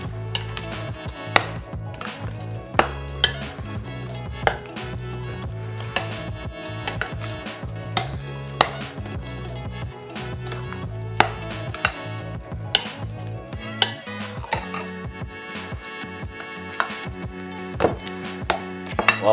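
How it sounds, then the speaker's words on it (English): Sweet potato pudding batter thinned with a can of coconut milk is stirred by hand in a bowl, giving a steady run of scraping, tapping strokes against the sides with a low background hum and no talking. "let's give it a lovely mix"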